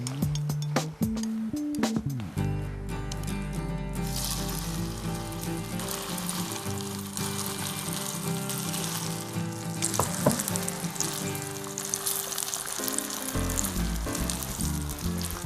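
After some clattering kitchen noise, a cheese potato pancake starts sizzling loudly in a hot pan. The frying holds as a steady, crackling hiss with occasional stirring and scraping.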